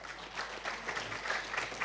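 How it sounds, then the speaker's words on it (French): Audience applause at a French public event as a guest is called up to the table, a steady, fairly soft patter of clapping filling the room throughout. "Sous vos applaudissements, s'il vous plaît."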